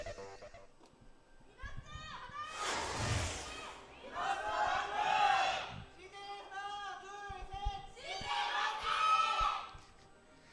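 A shrill female fan screams and cheers at a League of Legends esports match in the 2017 LCK promotion, loud high-pitched bursts rising and falling over a crowd, with caster voices talking throughout.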